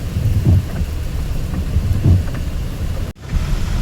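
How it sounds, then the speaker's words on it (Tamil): Heavy rain pours down in Nagercoil, making a dense, continuous wash of noise with low rumbling surges, loud and close, with a brief dropout near the end. "நல்ல மழை நாகர்கோவிலில்."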